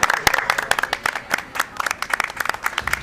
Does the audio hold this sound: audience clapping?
yes